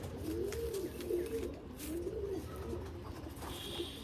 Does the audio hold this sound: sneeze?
no